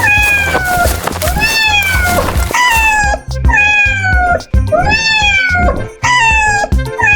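A thin white cat in a deserted alley meows loudly and repeatedly, five drawn-out plaintive cries in close succession, each rising then falling.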